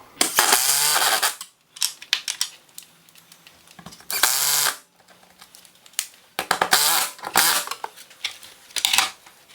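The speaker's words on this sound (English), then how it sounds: "now I'm going to use these 2-inch lag screws that they sent with the installation package and secure this to the wall" A power drill drives 2-inch lag screws into a wall while mounting a Chamberlain RJ020 wall-mount garage door opener, with loud close whirring bursts of about a second each, separated by clicks and handling noise.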